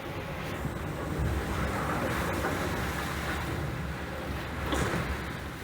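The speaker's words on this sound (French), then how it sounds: "Au final, le vent est très fort." Strong wind roars across open ocean during a solo round-the-world yacht race, mixed with the wash of waves against a racing sailboat in a following sea, a continuous loud rush with gusts swelling and easing.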